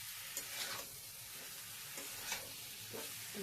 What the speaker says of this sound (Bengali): ডিমের বড়াগুলোকেও আলুর সাথে একটু ভালো করে কষিয়ে নেব।